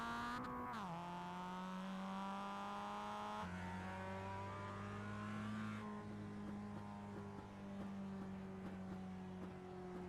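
Benetton racing cars at Imola, a sustained engine drone with steady tonal whine, shifting pitch as gears change, loud and close as from onboard, continuous throughout.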